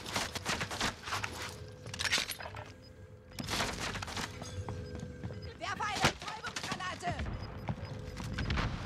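Gunfire in Call of Duty: Warzone, rapid bursts of automatic shots and crackling impacts under a player's excited talking, moderately loud throughout.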